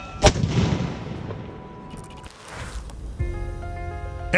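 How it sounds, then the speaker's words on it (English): An 81mm M252 mortar, carried by a Stryker and fired dismounted, gives a single sharp, loud blast at the start, then a fading rumble, with further thumps and a mechanical hum later. "they carry the 81mm M252 mortar that can only be used in a dismounted capacity"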